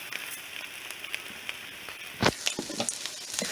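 Basmati rice is poured into a pan of broccoli that is already caramelizing, setting off a steady frying sizzle with a run of sharper crackles and pops near the end; no one speaks.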